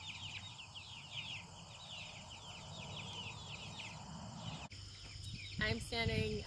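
Chickens in a coop give a steady run of quick, chirpy calls, then louder clucks and a squawk near the end, all close by over a low background rumble.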